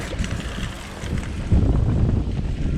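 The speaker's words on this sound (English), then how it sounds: "I hope this wind lays down today." Wind gusting across an outdoor canal fishing spot, low rumbling buffets on the microphone that swell louder halfway through, steady and close, with no talking.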